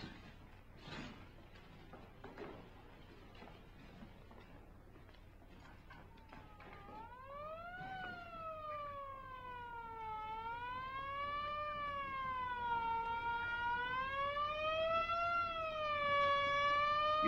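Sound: ambulance siren passing by

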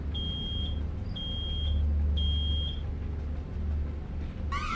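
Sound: fire alarm beeping in a video game

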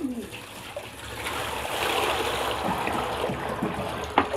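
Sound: water being poured into a large basin

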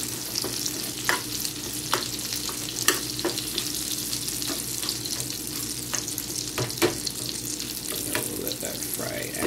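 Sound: onions frying in a pan for burgers

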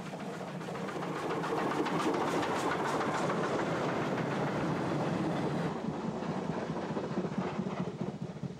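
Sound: train passing on railway

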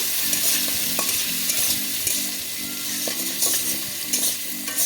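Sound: potatoes frying in oil after shrimp

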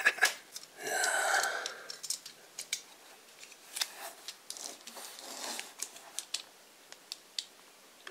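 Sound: removing plastic shrink wrap from a book

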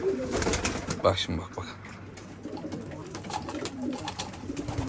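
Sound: pigeons cooing in a coop

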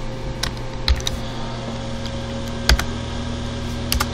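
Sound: typing code on a computer keyboard

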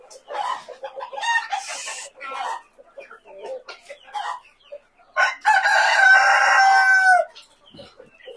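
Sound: rooster crowing and chickens clucking in pen

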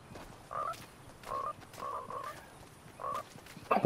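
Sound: frog croaking in the video game Fortnite

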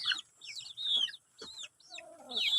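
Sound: chicken clucking

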